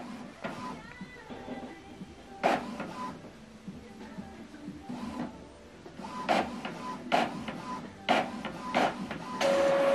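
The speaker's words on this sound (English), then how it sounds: "The second page is printing out." An Epson printer printing a page, with mechanical whirring, paper-feed rolls and sharp bursts of clicking and squeaking in an uneven rhythm, heard close up and without talking.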